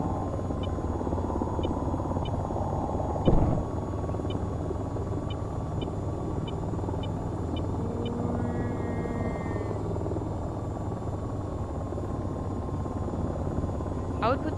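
Steady rotor drone of a helicopter in a video game hovers continuously near the ground, with a loud low hum, a few faint beeping tones and a brief thump partway through.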